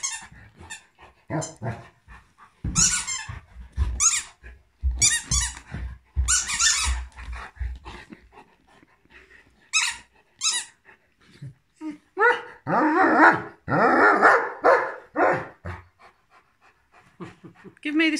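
A dog pants, whimpers and yips while chewing a squeaky Christmas cracker toy, with repeated squeaks in bursts close to the listener, and a person talks over the play throughout.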